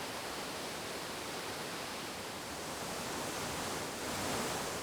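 Dandora waterfall on a river in Nairobi, heard from a distance as a steady broadband rush of falling water, even and continuous with no voices.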